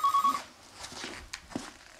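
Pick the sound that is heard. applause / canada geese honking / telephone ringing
telephone ringing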